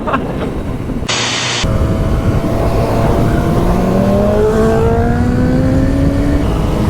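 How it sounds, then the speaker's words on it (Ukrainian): A motorcycle engine revs and climbs in pitch through several rising sweeps, loud and close, with a short break in the roar early on. "Ай, красавчик який, блін, класний мотоцикл."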